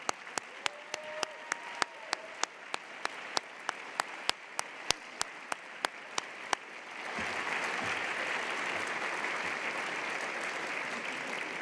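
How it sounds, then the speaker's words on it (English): An audience applauds as National Science Bowl alumni stand at the 2019 middle school championship; a few sharp isolated claps come first, then the clapping swells into a dense, steady round that continues to the end. "give them a nice round of applause"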